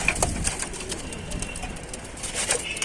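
Pigeons kept for sale in a loft in Tanta, Egypt, coo quietly while wings flap in short, close bursts against a faint, constant background.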